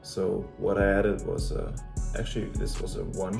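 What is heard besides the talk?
None of the usual background noises is heard.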